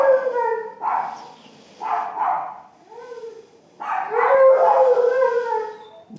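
A small Chihuahua and Pug mix dog howls up close in drawn-out, wavering bursts with short breaks between, loud and alone.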